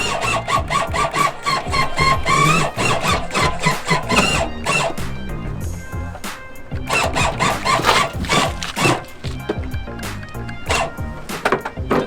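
An RV sewer hose reel retracts, giving off a loud run of rapid, rhythmic squeaks and clicks that continue steadily and briefly ease off midway before resuming.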